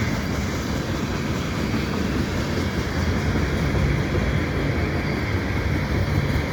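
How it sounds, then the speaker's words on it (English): A long Canadian Pacific mixed freight train rumbles steadily past near an overpass in light snow, a continuous loud roar and rattle of wagons with no pause. "this might actually be more than just mixed freight. It might be an ethanol train or something."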